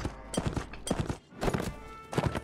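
Horse hooves clip-clopping at a gallop in the Mount and Blade video game, arriving in three rhythmic bursts of rapid beats with short gaps between them, fairly close and loud, with no talk over them.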